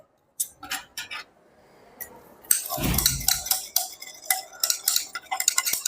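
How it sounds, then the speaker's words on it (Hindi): Table salt being stirred into a solution for DNA isolation in a school biology practical, heard as scattered clinking scrapes of a utensil against glassware, sparse at first and then a denser run of quick taps, close and fairly loud with no talk. "अब हम लोग इसको स्टेयर करेंगे"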